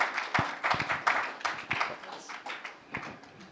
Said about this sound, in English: I would expect that there is a round of applause for all the three panelists